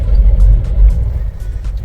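A car with traction control switched off drives along a rough mountain road, a steady low engine rumble close by with swells and dips, without speech.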